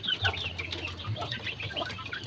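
Free-range chickens clucking in a backyard coop built from scrap household materials and netting, a steady low murmur of soft overlapping clucks throughout, moderately quiet, with no talking.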